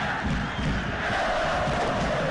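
A football stadium crowd roars after an Al Ahly goal against Ismaily: a loud, continuous wall of massed cheering and chanting, sustained without a break.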